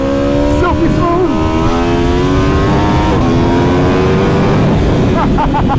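A 2021 Aprilia RSV4 sport motorcycle accelerating hard, its engine note climbing steadily with quick, crisp quickshifter upshifts and auto-blip downshifts. The sound is loud and close, with no talking.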